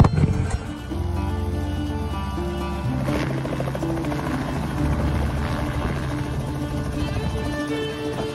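A helicopter drones steadily nearby, its rotor and engine hum continuous and loud throughout, with no talking.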